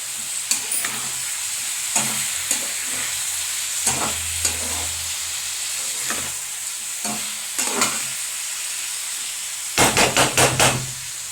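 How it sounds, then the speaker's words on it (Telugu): Chicken frying in oil inside a covered pan for a home curry, a steady close sizzle and hiss with intermittent utensil knocks and stirring scrapes, ending in a quick burst of rapid tapping. "ఇప్పుడైతే ఆయిల్లో కొంచెం పచ్చివాసన పోయే వరకు చికెన్ వేగాలి, అందుకే మూత పెట్టాను"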